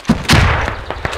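A grenade blast in the Squad military shooter, a sharp loud bang with a second heavy burst just after, close and brief with no talk.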